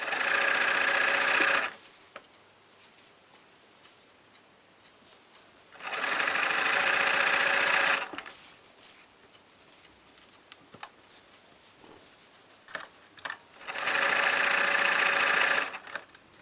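A sewing machine joins patchwork pieces in three loud, steady bursts of stitching, separated by quieter stretches of fabric handling and small clicks.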